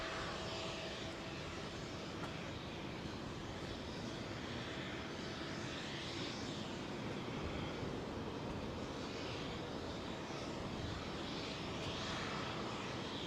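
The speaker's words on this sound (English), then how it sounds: "Talking of Thai Airways, here comes their 777." Thai Airways Boeing 777 climbing out from London Heathrow's runway 09R, a steady, fairly faint engine rumble overhead that holds evenly, with no one speaking.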